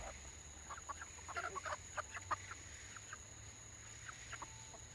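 Chickens cluck and call in a forest village in Guyana, faint scattered bursts over quiet background hum, with a few clustered clucks in the middle and sparse calls toward the end.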